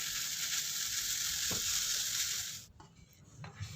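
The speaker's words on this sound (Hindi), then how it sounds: "अब हमने ज़्यादा नहीं पकाना, हाई फ्लेम पे 30 सेकंड के लिए पकाएंगे" Grated radish mixture for paratha filling sizzles loudly in a pan over high flame, a steady bright hiss with one soft knock, then cutting off abruptly into near quiet with a faint clink.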